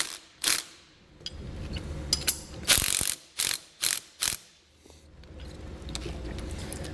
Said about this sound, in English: I'm just going to back the nut off just a tad